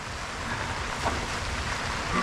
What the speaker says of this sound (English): It's tipping down with rain outside